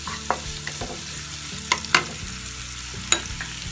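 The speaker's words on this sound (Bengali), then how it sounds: "পেঁয়াজটাকে আমি একটু ভেজে নিচ্ছি।" Half a cup of chopped onion frying in about two spoons of oil in a pan, a close, continuous sizzle with scattered stirring clicks and scrapes, no talking.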